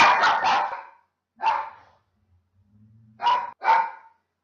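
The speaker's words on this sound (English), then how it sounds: "someone just came to my door and my dog's went crazy" Dogs barking at a visitor at a house door: a loud burst of several quick barks, then a single bark, a low whimper, and two more sharp barks close by, with no talking.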